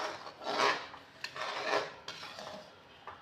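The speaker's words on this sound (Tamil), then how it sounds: "ஆனால் கை விடாமல் கலரிக்கிட்டே இருக்கணும்." Black urad dal kali being stirred continuously in a pot, with steady, fairly quiet scraping strokes repeating back and forth as the spoon rubs the pot's base; no speech.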